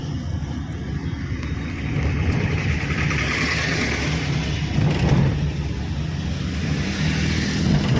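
A car engine runs steadily while driving in second or third gear at around 30–40 km/h on a town road, a continuous moderate hum with a slight rise in level partway through and no talking.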